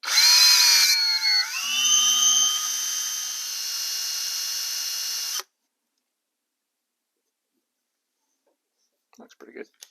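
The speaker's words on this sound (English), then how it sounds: "I've just chucked one end up into my drill." A power drill spins a rod against 80 grit sandpaper to taper its end, a steady whining motor hum with a pitch dip as load changes, running several seconds then stopping, followed by silence and faint handling clicks.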